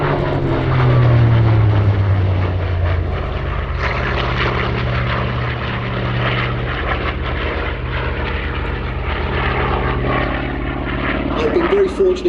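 A Hawker Fury Mk.II propeller fighter plane roars past loudly at an airshow with a steady droning engine, its pitch shifting as it flies by, while a voice talks over it.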